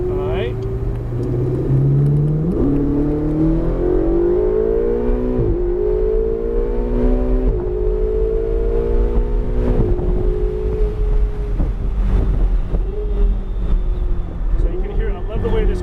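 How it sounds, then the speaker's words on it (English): Ferrari 488 GTB engine on a race track, loud and close, revving through rising gear pulls with sharp downshift blips and falling pitch steps, wind rushing throughout and voices talking over it. "I love the way this car downshifts for you."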